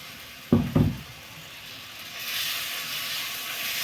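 Cucumber thalipeeth dough is dropped into hot oil on an iron griddle, giving two quick sharp taps followed by a steady, rising hiss of frying that continues alone to the end.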